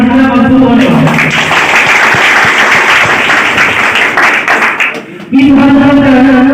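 Loud applause from a school farewell ceremony audience for a class 10 group, dense clapping filling most of the stretch between music or tonal sound at the start and end.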